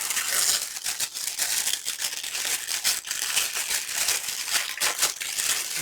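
Cardboard packaging on a craft subscription box is peeled open by hand, giving continuous close crinkling, crackling and tearing, steady and fairly loud throughout.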